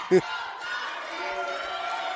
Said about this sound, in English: We have dueling chants right now, Sal. It's loud in here.